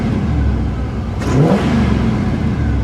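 A 1979 GMC Caballero V8 revs up under a steady engine roar as its four-barrel carburetor opens, giving a brief rising surge about midway through, loud and close.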